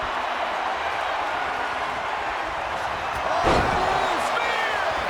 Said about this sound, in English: Headed From the top. Elbow drop.